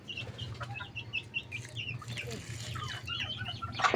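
Gamecocks cluck and chirp in short, scattered bursts during wet feeding, with a steady low hum underneath and a louder flurry near the end.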